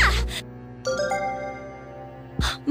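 In the video game Persona 3, a cell phone rings with a chiming, ding-dong-style electronic tone that rings out and then fades. Short bursts of other game sounds come at the start and the end.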